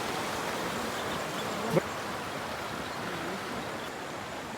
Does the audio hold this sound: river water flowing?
yes